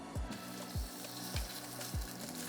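Chicken searing in hot olive oil in a pan gives a steady, close sizzle, broken by four evenly spaced low thumps.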